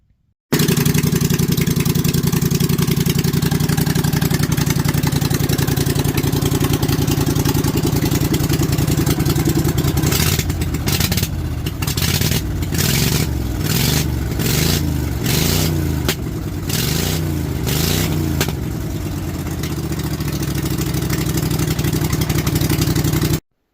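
Snow mower engine, freshly repaired with a new gasket, running loud and close with a steady rough idle, then a series of sharp revs and throttle blips midway before settling back to idle.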